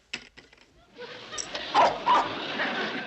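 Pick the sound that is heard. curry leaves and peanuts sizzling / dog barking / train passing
dog barking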